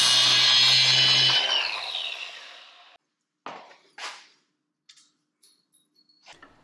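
A power tool runs loudly for a moment on a 40-year-old DeLorean front suspension, freeing the sway bar cotter pin, then winds down into quiet, followed by a few scattered metallic clicks and taps.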